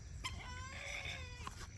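Chickens cluck and chatter close by inside a homestead chicken coop, with a drawn-out rooster-like call rising over the flock in a short burst.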